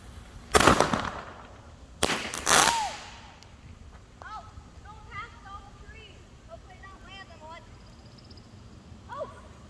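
Fireworks set off outdoors: two loud, sharp firecracker-like bangs with crackling bursts early on, followed by fainter whistling and popping further off, with talk faintly underneath.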